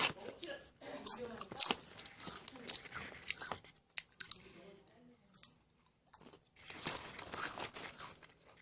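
Japanese Honey Butter potato chips crunch in close, crisp bites and chewing, in irregular bursts separated by brief quiet gaps.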